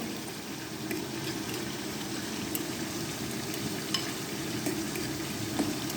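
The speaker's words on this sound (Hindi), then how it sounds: "जैसे ही अदरक लहसुन का पेस्ट जो है वो फ्राई हो जाएगा" Ginger garlic paste frying in a pan for chicken karahi, a steady, even sizzle with faint stirring clicks throughout, close and fairly quiet, with no talking.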